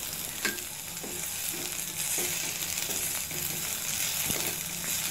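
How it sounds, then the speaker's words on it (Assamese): A green chili and onion frying in a pan give a steady, even hiss, with light occasional taps from the stirring ladle. No one speaks. "জলকীয়া এটা আৰু পিঁয়াজ এটা তাতে দি দিছোঁ। এইখিনি এক মিনিট সময় ভাজি ল'লে হৈ যাব"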